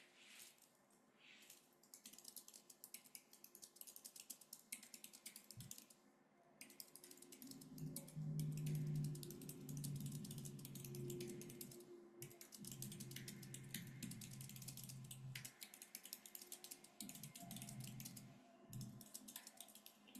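Computer keyboard typing heard faintly under a steady low hum, with bursts of quick key clicks that stop and start in irregular runs.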